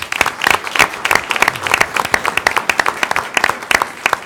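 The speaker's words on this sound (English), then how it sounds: "Everybody clapped for you." An audience at a city council meeting breaks into brisk, loud applause, many hands clapping in a dense, uneven patter that carries on steadily.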